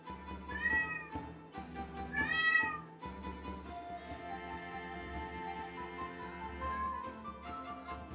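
A male cat meows repeatedly nearby, with two loud, drawn-out cries at the start followed by quieter, softer meows over a faint background hum.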